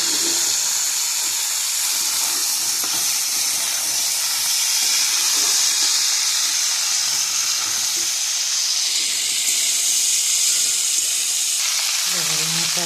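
Ground cumin and chili powder sizzle and fry in a hot pan, a steady broadband hiss of spices cooking close up, with faint stirring scrapes and no talk.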